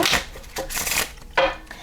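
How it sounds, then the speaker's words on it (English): A tarot deck is shuffled in close, loud papery bursts, three distinct riffles within about two seconds, with no talking. "I'm going to go ahead and shuffle the deck for you."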